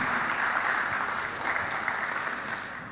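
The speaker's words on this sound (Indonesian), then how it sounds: "tepuk tangan untuk kita semua." Seminar attendees at a National Teachers' Month event break into applause, a dense, moderately loud wash of clapping that holds steady and eases slightly toward the end.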